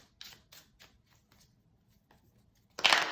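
Tarot cards being shuffled in short riffling bursts separated by pauses, ending in a louder, longer riffle close by.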